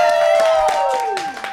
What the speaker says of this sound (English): we didn't even need to tell them to applaud this time